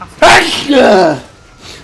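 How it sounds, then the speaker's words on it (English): A single dry sneeze bursts out sharply and close, followed by a short spoken reply from a man. "Oh, I hate dry sneezes."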